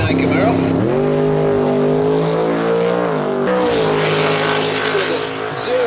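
A 1969 Chevrolet Camaro drag race car roars at a drag strip, its engine note loud and sustained, rising and falling in pitch with a sharp surge midway and crowd-like noise behind.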